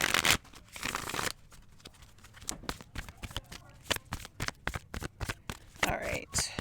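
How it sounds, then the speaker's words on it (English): A Gilded Tarot card deck is shuffled in repeated bursts of crisp riffling and flicking, close and fairly quiet, with some faint talking mixed in. "Let's just do a couple shuffles here for you."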